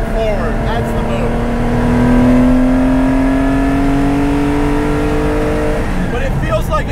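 A 1973 Porsche 914/6 engine pulls uphill from the cabin, a loud, steady drone whose pitch climbs slowly under load before easing off near the end.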